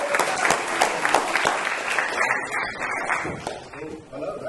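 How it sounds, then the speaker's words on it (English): An audience claps a welcome for two guest speakers at an indoor event, a burst of dense applause for about two seconds that thins into scattered claps, with voices underneath as it fades. "let's give them a round of applause"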